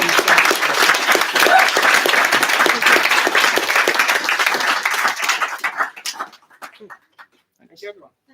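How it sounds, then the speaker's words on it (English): Applause from an audience at the close of a show-and-tell event, a dense wash of clapping that fills most of the clip before thinning into scattered claps at the end. "we should end on a round of applause for everyone"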